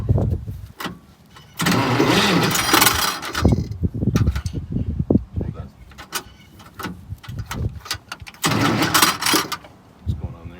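A bus starter cranks in repeated loud bursts with a scratching, grinding edge as the solenoid fails to engage, and voices can be heard between the attempts.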